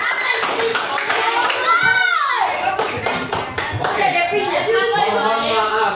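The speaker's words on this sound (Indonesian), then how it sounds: "Baik, kita kasih aplaus yang" Scattered hand claps from an audience after a school class presentation, sparse and uneven, mostly buried under overlapping children's voices and chatter.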